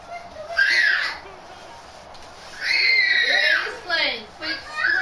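A child screams in the room during a Madden 23 football game tournament, loud high-pitched cries in several bursts over game commentary and talk.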